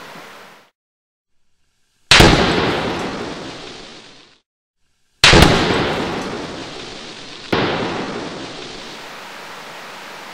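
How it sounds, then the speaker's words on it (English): A series of powerful blasts from something being blown up, with three sharp booms, each followed by a long rumbling, hissing decay, separated by brief silences, loud and close with no talking. "You ready to blow it up?"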